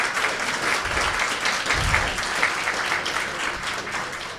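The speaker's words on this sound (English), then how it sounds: "I would like to ask for a big round of applause for Kimberly and for Megan." An audience applauds Kimberly and Megan at a talk on sexual exploitation, mental health and addiction, with dense steady clapping at moderate loudness throughout.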